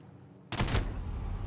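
A sudden loud burst of automatic gunfire in a Call of Duty: Modern Warfare prison-building breach, hitting the player at close range and ringing out for about a second before fading into a rumbling tail.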